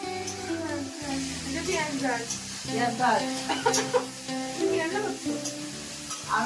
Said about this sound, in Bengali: রান্না করছি শাক ভাজা লাল শাক ভাজা আর আলু আর পেঁয়াজ কলি ভাজা